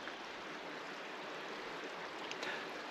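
A little stream runs steadily through woodland near a fallen tree, a faint, even hiss and trickle of water with no voices over it.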